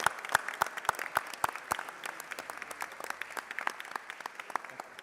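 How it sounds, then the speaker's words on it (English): A crowd in the House chamber applauds: a few loud, distinct claps open into steady, dense clapping from many hands that carries on for several seconds at moderate distance. "A big round of applause for them."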